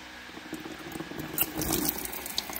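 Water mixed with coolant drains from the engine of a 2016 Dodge Journey with a 2.4L engine, a soft, close, steady trickle and patter with small splashing bursts.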